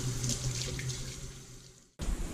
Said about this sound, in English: You're going to want to start by washing your sweet potatoes.